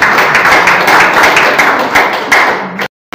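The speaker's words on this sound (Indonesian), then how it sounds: "Tepuk tangan untuk Pak Selamat." At an inauguration ceremony for a Jakarta education organization's board, an audience claps in a dense, loud burst of applause for nearly three seconds before it stops abruptly.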